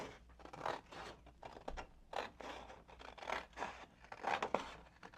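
Faint snipping and scratchy rustling, irregular and close, as scissors cut through Bible cover material, with no talking.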